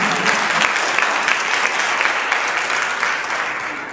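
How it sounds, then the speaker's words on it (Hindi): Loud applause from a church congregation at a Christian gospel gathering, a thick sustained roar of clapping with crisp individual claps standing out, tapering slightly near the end. "जोरदार तालियां दीजिए।"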